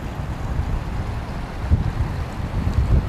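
Strong wind blows near a glacier in the Rockies, a loud continuous rumbling buffet with gusty swells and no voices.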